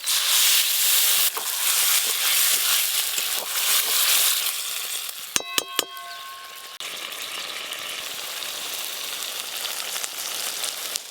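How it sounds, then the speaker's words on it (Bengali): Water poured into a hot pan of fried spices and eggplant for a rustic Bengali eggplant jhal, giving a loud steady sizzle with a brief burst of sharp clinks midway before the frying hiss settles lower. "আমি ভাত দিয়ে খাবো, তাই অল্প একটু জল দিয়ে ভালো করে ফুটিয়ে নেব।"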